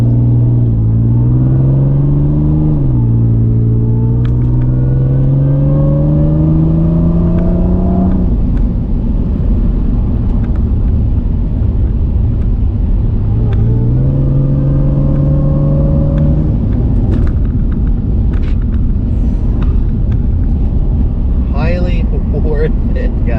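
A Mercedes-Benz W203 C32 AMG engine revs in two rising sweeps, each climbing steadily then dropping as the automatic downshifts, with a steady rumble underneath and light clicks near the end.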